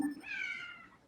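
A single short, strange meow from a cat in a video game, clear and fairly loud, trailing off within a second.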